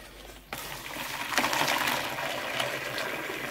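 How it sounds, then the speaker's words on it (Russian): Boiling water is poured from a kettle for soaking laundry with stain remover, starting abruptly and running as a steady, loud gushing stream close by for several seconds. "Так, наливаю кипяток."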